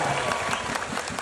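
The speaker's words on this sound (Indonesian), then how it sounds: "Coba tepuk tangan" Brief burst of audience clapping at a stand-up comedy set during a ministry festival in Indonesia, a quick, full crowd applause filling the moment.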